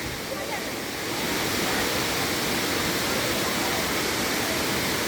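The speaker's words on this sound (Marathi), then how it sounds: "पाण्याचा आवाज येतो आहे" A steady, loud roar of rushing water from Savdav waterfall in Maharashtra, close by, continuous and unbroken.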